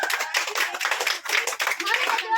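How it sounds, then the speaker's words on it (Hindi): Children in a classroom clap together in a brisk burst of applause, a dense patter of small hands that carries on throughout without a break. "जोरदार तालियां दोनों के लिए।"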